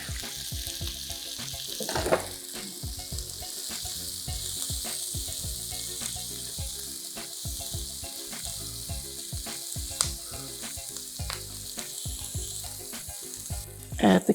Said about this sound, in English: Saute the onions for a few minutes. I'm going to add my garlic.